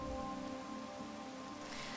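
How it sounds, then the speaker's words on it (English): Steady rain falling in a spruce forest in Minecraft, an even hiss of drops with a faint low tonal hum beneath, constant and alone throughout. "Oh, and now it's raining."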